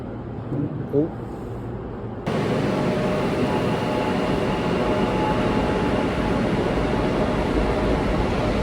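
A Kolkata metro train arrives with a sudden loud, steady rumble and roar after a brief quieter moment on the platform. The rumble carries on unbroken to the end.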